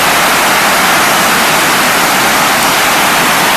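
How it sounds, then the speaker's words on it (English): Water of the River Dane rushing steadily past in a park, a loud, continuous broadband roar close by with no other sounds over it. "There's a fair old whack of water going down there."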